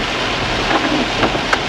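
Heavy rain pours down on a car driving along a freeway, a dense steady roar of water and road noise filling the cabin with faint scattered spatters, no voices.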